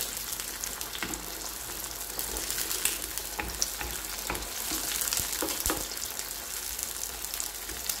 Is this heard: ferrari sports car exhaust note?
no